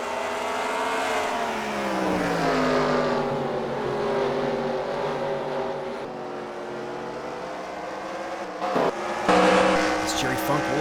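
Race cars circling North Wilkesboro Speedway in a racing video game, a loud, steady engine howl that bends in pitch and swells as cars pass, with commentary voices running over it.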